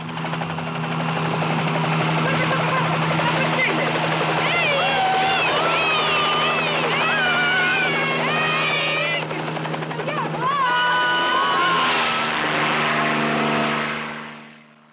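A helicopter's steady loud rotor drone fills a film scene while voices call out in Italian over it, the engine fading near the end.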